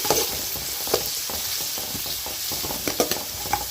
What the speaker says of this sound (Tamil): இப்போ இதெல்லாம் வெங்காயத்தை நல்லா வதக்கிடுவோம்